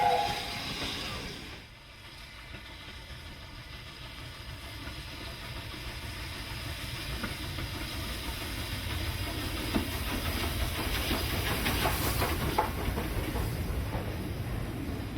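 A BR 9F heavy freight steam locomotive, with a steady low rumble, hiss and rolling train noise, fairly distant and even, swelling slightly louder as it continues.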